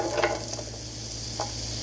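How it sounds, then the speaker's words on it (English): Onions hiss and crackle in butter in a hot pan with a steady sizzle, with a few soft scraping stirs. "we have the butter in the pan, and we're going to throw these onions from the cutting board in there"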